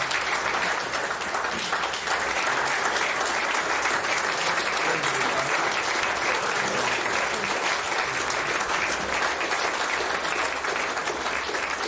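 Steady, dense applause from a standing audience at a Queensland Boxing Hall of Fame induction, a continuous wash of many hands clapping at even loudness throughout, with a faint crowd murmur beneath.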